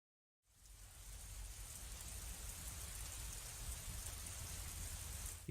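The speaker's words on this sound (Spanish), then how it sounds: "Y la lluvia." Rain falls steadily in GTA San Andreas on the PlayStation 2, a dense, even hiss of drops starting suddenly after a brief silence and holding at a constant, close level with a low rumble underneath.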